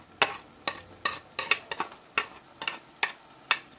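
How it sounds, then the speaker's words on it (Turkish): Fava beans and tomato paste being stirred in a pan, with around ten quick, crisp scrapes and taps in an uneven rhythm over a faint sizzle, close and alone with no voices. "Şimdi baklayı salçasıyla karıştıracağım."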